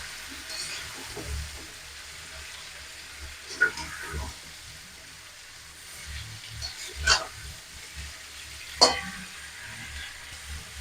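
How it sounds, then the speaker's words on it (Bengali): Raw mango pieces fry in a pan for a pickle, giving a low, steady sizzle with soft stirring scrapes and a few sharper clicks of a spoon against the pan, heard close with no talking. "আর আমটাকে একটু ভেজেও নেবো"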